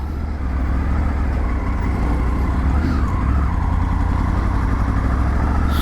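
A motorcycle cruising on a long highway ride, its steady engine drone and road noise holding loud and continuous throughout, with no talk over it.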